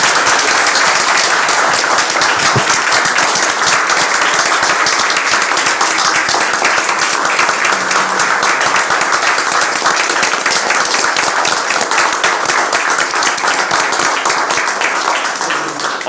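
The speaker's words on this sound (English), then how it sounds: "Can we just celebrate, like clap our hands first really quick?" Loud, sustained applause from an audience at a public school board meeting honoring student award winners, dense clapping continuing steadily and alone for about sixteen seconds.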